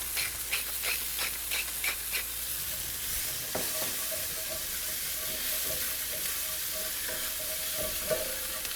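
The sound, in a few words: shallot and garlic sizzling in a skillet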